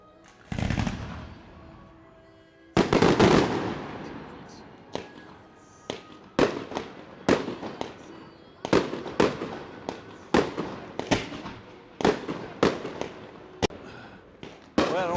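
Fireworks at Broadway at the Beach in Myrtle Beach burst in a rapid run of sharp, booming explosions, a dozen or more cracking in quick succession with some echoing tails.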